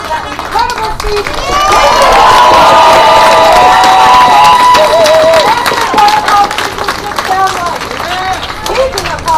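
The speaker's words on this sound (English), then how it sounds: "Another round of applause for that incredible speech." A rally crowd in Providence protesting funding for Israel claps and cheers loudly and continuously, with whoops and shouting voices layered over dense applause that swells in the middle.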